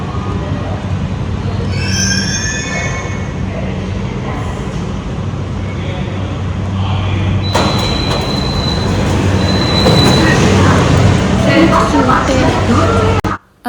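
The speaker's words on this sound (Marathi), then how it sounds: "मेट्रोच्या डोरबरोबर हे प्लॅटफॉर्मचे डोर पण ओपन होतील." An underground metro train on Mumbai's Aqua Line pulls into a station platform with a loud rumbling roar and squealing wheels, then beeping tones sound as train and platform doors open.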